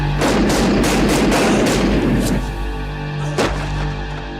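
A rapid string of loud, reverberant shots from a Colt 1911 pistol in a film scene, followed by ringing echo and a final sharper bang.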